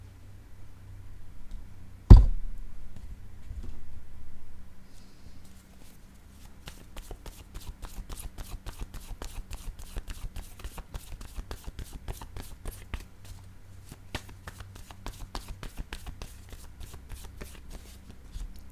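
Word cards handled on a table during a card game: after one sharp knock, a long run of quick, light papery clicks and riffles, close and fairly quiet, with no talking.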